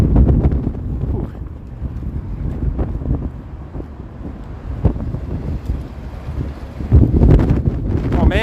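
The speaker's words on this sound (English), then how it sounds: "Oh man, the wind is blowing my gimbal." Wind buffets a handheld camera microphone on a downtown Toronto street, a loud low rumbling roar with gusty surges, while a person talks faintly underneath.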